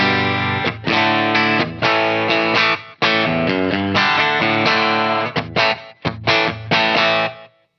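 Bright, distorted electric guitar on the bridge pickup of a Fender 75th Anniversary Ultra II Telecaster plays choppy chords and short riffs, loud and close, with brief pauses between phrases.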